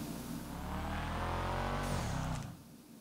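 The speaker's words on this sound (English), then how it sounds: "You wanna drive front till you hear your car revving to the second gear, till it shifts to the second gear" An in-game car engine in GTA revs and climbs steadily toward second gear, holding a loud whirring drone before the pitch breaks as it shifts and the sound drops away near the end.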